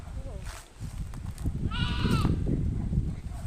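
A goat bleats once, a wavering cry close by outdoors, with people talking over the ambient background at a rural family home.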